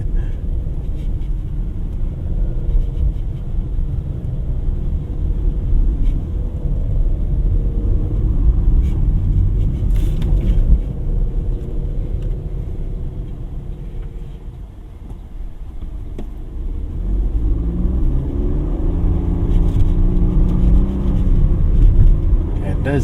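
A 2025 Suzuki Dzire Hybrid's three-cylinder engine revs during a test drive, heard from inside the cabin as a loud steady drone and road rumble that dips briefly then climbs again, with a voice talking over it.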